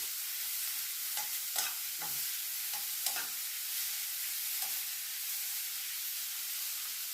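Food sautéing in a hot pan with a steady hiss and sizzle, broken by several scraping stirs of a spatula, close and clear with no talking.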